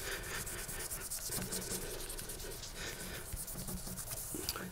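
Fine 1500-grit sandpaper rubs steadily over a knife handle, a soft continuous hissing scrub with quick repeated strokes, close and quiet with no talking.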